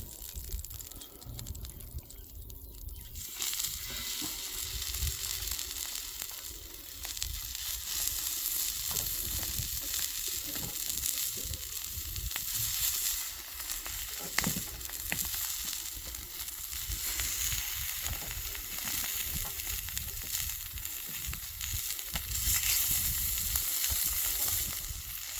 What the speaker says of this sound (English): the plate's about 300 degrees, so we'll throw some sausages on